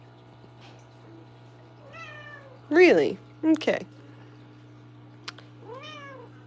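A pet cat meows several times indoors, a few drawn-out, rising-and-falling calls spaced across the moment, close and clear over a steady low aquarium hum, with a person briefly speaking between them.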